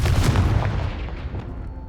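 A Confringo fire spell from the video game Hogwarts Legacy goes off in a single loud, boomy blast that rolls off and fades over about two seconds.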